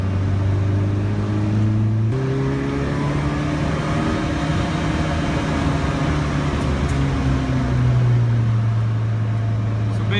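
A Lotus Elise S1 sports car drives along a B road, its engine humming steadily from inside the cabin with a gear change early on and revs rising and settling, loud and continuous with no talk.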